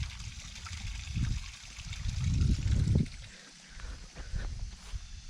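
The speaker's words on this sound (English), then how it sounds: "Still pretty good stream of water running through her." Water runs and trickles steadily through a pipe nearby, swelling and easing in gurgling surges with no talking.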